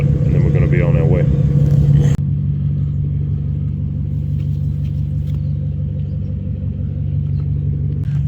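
Toyota Soarer with a 1UZ V8 engine idling as it warms up, a steady deep rumble held close and constant, with voices over it at the start before the engine drones on alone.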